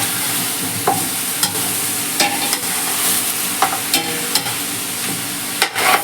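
Spiced mutton machboos is stirred in a pot over a steady sizzling background, with a series of distinct scraping strokes of the spoon against the pot, close and clear, with no talking.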